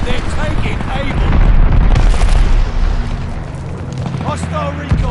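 A glide bomb detonating in Call of Duty Vanguard zombies: a loud, rumbling blast that rolls on for several seconds, heavy and low, with other game sounds mixed in.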